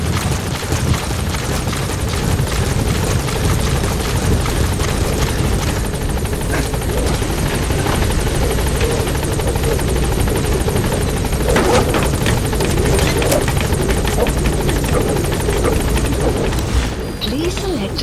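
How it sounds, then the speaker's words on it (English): Loud, continuous rotor thump of a support helicopter arriving close by in Metal Gear Solid V: The Phantom Pain, with booms and bursts of gunfire mixed in and occasional radio-style voices. "Support helicopter has arrived."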